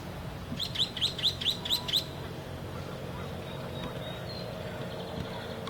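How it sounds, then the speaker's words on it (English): A Nuttall's woodpecker calls in Laguna Niguel Regional Park: a quick series of about six sharp, high chirps in a rapid run, moderately near, over quiet outdoor background hiss and no talk. "Little Nuttall's woodpecker."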